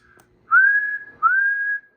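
Someone whistles into a radio microphone to test an SBE SB2-LA linear amplifier on 40 meters: two clear, sustained whistles, each rising slightly at the start, heard close and alone.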